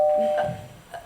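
A doorbell chimes once in a theatre cabaret sketch, a clear bright tone that fades quickly, followed by faint stage noise and a soft voice.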